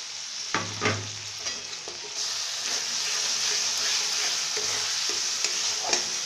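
Masala with Kashmiri chili powder frying in a pan for a soybean curry, a steady close hiss of sizzling oil with intermittent spoon scrapes and stirring knocks.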